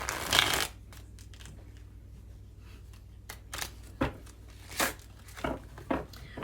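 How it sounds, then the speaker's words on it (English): A Good Tarot deck is shuffled by hand: a loud riffle at the start, then soft, steady card rustling with sharper snaps and riffles recurring every second or so. "these cards usually shuffle really beautifully"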